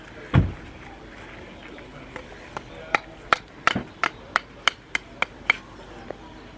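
An old metal object, resembling an antique lever or crowbar pulled from a river, is tapped to knock debris off: one heavy thud, then a steady series of about a dozen sharp, close metallic knocks.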